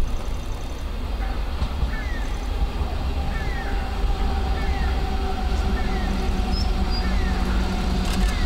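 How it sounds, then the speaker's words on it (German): A Berlin S-Bahn class 485 three-unit train pulls into Oberspree station with a steady, close rolling rumble and repeated faint high brake or wheel squeals. "Ein 485-Trio erreicht den Haltepunkt Oberspree."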